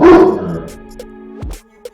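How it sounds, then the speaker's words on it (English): Several sharp dog barks and yelps break out loudly at the start, then fade into a sustained whine before a few more short yips close out the moment. "Sorry, forgot to mute the dogs."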